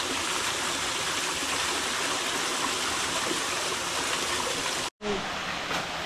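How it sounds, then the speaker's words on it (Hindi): Steady, loud rush of a waterfall fills the scene close by, a continuous broad roar with a brief cut near the end. "सामने एक झरना, आपको आवाज़ आ रही होगी"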